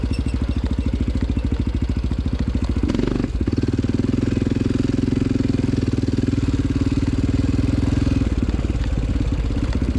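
Quad ATV engine idling loudly and close at a Raper Farms cross-country race, a steady rapid chugging pulse with a brief blip in the middle before settling back to an even idle.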